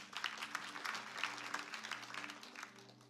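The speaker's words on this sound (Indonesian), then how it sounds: "Boleh tepuk tangan buat Leo" A church congregation applauds during a sermon, with scattered, moderately quiet hand claps in a loose rhythm over a low steady hum.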